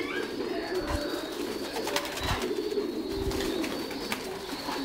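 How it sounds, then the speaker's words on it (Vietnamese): Pigeons at a farm coo softly while being fed scattered bran, a low repeated cooing under steady background noise with a few scattered chirps. "mình sẽ cho anh em xem là chim bồ câu nó ăn như thế nào này"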